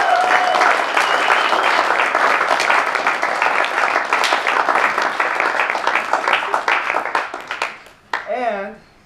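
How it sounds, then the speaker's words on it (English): A school morning meeting audience claps for committee members in a lively, sustained round of applause that gradually thins and fades, followed by a speaking voice at the end. "Just want to give them a round of applause."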